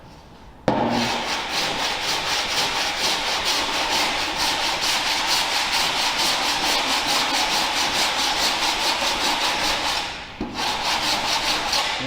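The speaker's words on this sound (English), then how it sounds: "you can file a lot of dents out" A file worked steadily across a dented car body panel during a restoration, producing a continuous loud rhythmic rasp of rapid strokes that starts abruptly, briefly dips near the end, then resumes.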